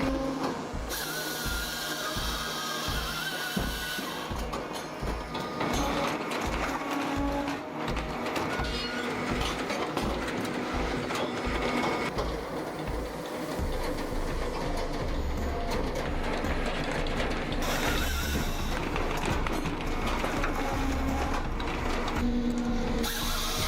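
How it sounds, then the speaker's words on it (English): Hakki Pilke Easy 50 firewood processor with saw and splitter running, a continuous dense mechanical roar with shifting whine and clatter, heard close and steady for the whole stretch without speech. "Its high-performance saw and splitter handle large volumes with efficiency and precision."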